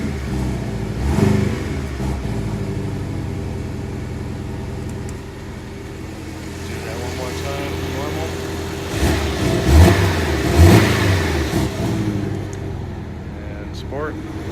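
Engine of a 2017 Porsche Boxster in sport mode, rising and falling revs with a couple of sharper throttle blips, heard close under someone talking throughout.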